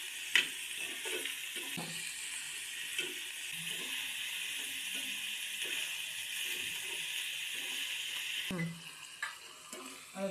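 Ridge gourd curry sautéing in hot oil with a steady, close sizzle, broken by occasional scrapes and stirs of a spoon against the pan.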